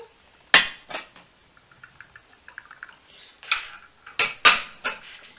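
Small dessert plates clink and clatter as they are handled, with several sharp, close knocks of plate against plate and quieter rattles in between.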